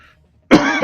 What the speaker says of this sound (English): For coughing in your ear.